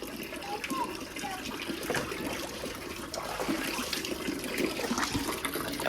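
Water splashes and trickles steadily as a baby is bathed, close and continuous, with faint voices in the background.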